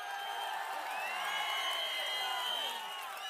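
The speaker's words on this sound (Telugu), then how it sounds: "ఆశీర్వదిస్తామని గట్టిగా చప్పట్లు కూడా చెప్పాలి." A large crowd at a political rally in Sattenapalli sends up a sustained roar of cheering voices. The sound is dense and held for the whole moment, with clapping not clearly distinct.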